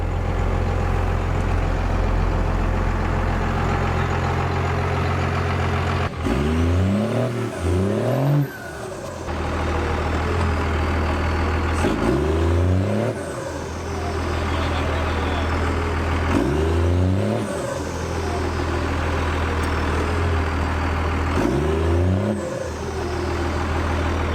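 A Cummins truck stuck off-road revs its engine in four repeated bursts, each roar rising and falling over a constant loud idle, close by with no talking.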